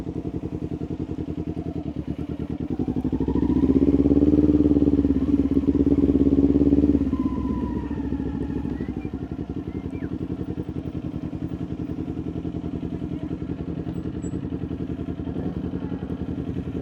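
A big bike motorcycle engine near a cafe parking area in Pampanga: a steady rumbling idle that swells into a louder rev for a few seconds, then settles back to a low throb.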